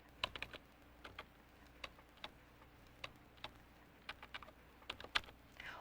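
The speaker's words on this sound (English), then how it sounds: "or use the numbers on my keyboard." Sparse keystrokes from a home computer keyboard as numbers are typed into a calculator, about a dozen separate clicks spread irregularly over several seconds, close and quiet with no talking.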